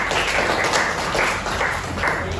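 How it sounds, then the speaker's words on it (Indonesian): Audience clapping for the second group at an Indonesian teacher-training presentation, a steady dense patter of many hands throughout, fairly loud and continuous with no talk over it. "Tepuk tangan untuk nomor 2"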